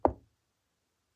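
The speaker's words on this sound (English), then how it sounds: "he heard a knock" A single sharp knock on a door, close and fairly loud, dying away quickly into silence, with no voices.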